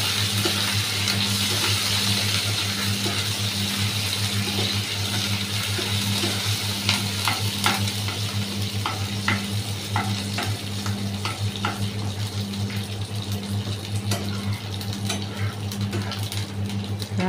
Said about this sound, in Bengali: মিশিয়ে একটু ভেজে নেব।